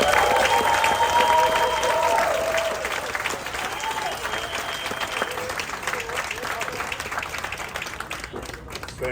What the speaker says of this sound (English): let's give him the round of applause that he so richly deserves